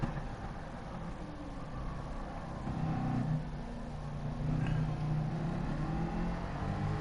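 A Mustang in a PS4 racing game drones with a steady engine note that rises and falls as it revs, continuous and moderately loud with no talk over it.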